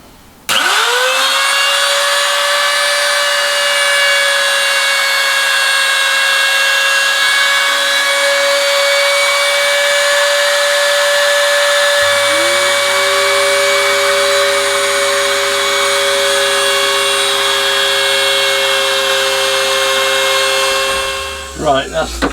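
A high-pitched power router whines steadily while machining a foamed plastic Foamex quilting template in a small shed, a loud continuous tone that shifts pitch midway and spins down at the end.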